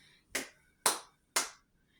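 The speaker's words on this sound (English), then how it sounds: "Clapping rhythms is really good too." Three sharp hand claps in a steady, evenly spaced rhythm, close and crisp, each with a short decay, with quiet gaps between and no talking.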